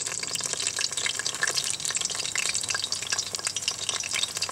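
Chili rellenos deep frying on an outdoor grill, a steady crackling sizzle of hot oil with constant fine popping, close and even throughout.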